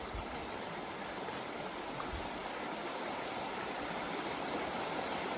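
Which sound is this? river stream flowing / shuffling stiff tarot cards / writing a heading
river stream flowing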